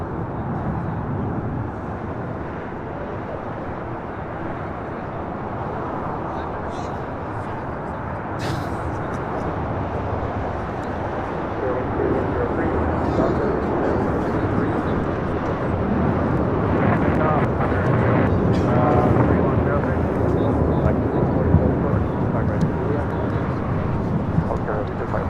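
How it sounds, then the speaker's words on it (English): An American Airlines A321neo takes off at LAX, a broad jet engine roar building gradually to a sustained loud rumble, heard from a distance with wind noise and a voice speaking over it. "That was American 658 taking off to Miami on an A321neo."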